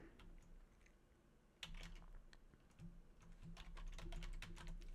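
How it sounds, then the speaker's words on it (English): Typing on a computer keyboard, a quick run of close, quiet key clicks that grows busier toward the end. "Let me type this in"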